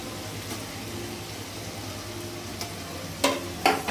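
Ginger garlic paste with ground masala fries in a pan with a steady close sizzle, and a few sharp clinks of a spoon against the pan near the end.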